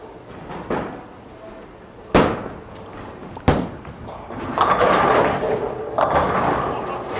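A bowling ball thrown down the lane and hitting pins: a few sharp thuds from the ball landing, then a rolling rumble that rises into the clatter of pins being struck, with a second burst of clatter just after.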